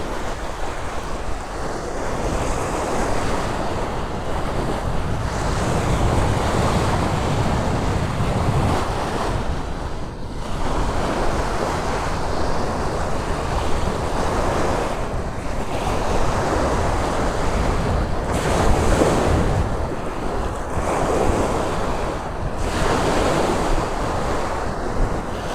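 Steady wind roars over breaking sea waves at Empuriabrava beach on the Costa Brava, Spain, a continuous broadband wash of surf with gusts swelling and easing throughout, no voices.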